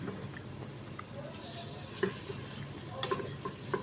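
A chopped medium-size onion sizzling in hot oil, a soft steady frying hiss with occasional light clinks and scrapes of stirring.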